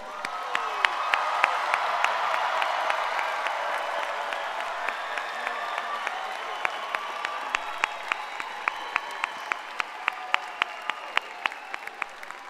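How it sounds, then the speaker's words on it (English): Graduation audience at the Pieper High School Class of 2024 ceremony gives a sustained round of applause, dense and steady at first, then thinning into scattered individual claps and sharp louder hand strikes toward the end. "How about one more round of applause for our graduates?"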